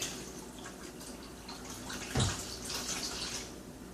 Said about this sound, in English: You're going to pour some whiskey in the cup because whiskey is 0 carb.